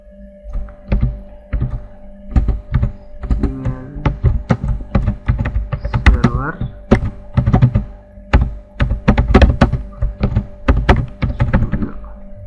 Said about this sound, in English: next go and type something